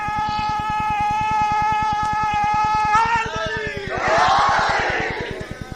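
A long, droning call from a single amplified voice over a buzzing sound system leads into a brief, loud roar as a large crowd at a religious gathering shouts a slogan in reply.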